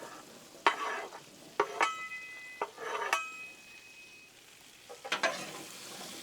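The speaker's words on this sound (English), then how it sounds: "Grab up them taters. And just dump them on the griddle." Diced potatoes hit butter on a hot Blackstone griddle, crackling and sizzling loudly while a metal spatula scrapes and clanks across the flat-top in several sharp bursts.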